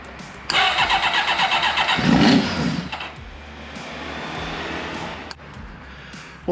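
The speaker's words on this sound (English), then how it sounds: "The bike actually fired with the ether getting sprayed through into the airbox." A 1989 Kawasaki GPX750R motorcycle cranks on its starter, then the engine catches and fires on ether, a loud rhythmic churning that rises into a brief roar before settling, close up with no talking.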